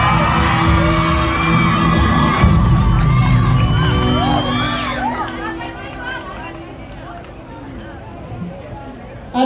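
A live audience at a broadcast competition event cheers and whoops loudly, with crowd noise and voices mixing in, then fades to a lower murmur over several seconds.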